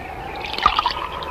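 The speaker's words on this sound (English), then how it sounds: "Stand there and pour a drink for yourself." A drink poured into a glass in an animated story, a brief liquid trickle and splash of about a second, fairly close and clear.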